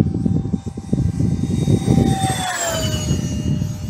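An RC A-10 Thunderbolt V2 model jet makes a full-throttle speed pass, a loud continuous ducted-fan whine with a Doppler pitch drop as it sweeps past, over steady wind buffeting.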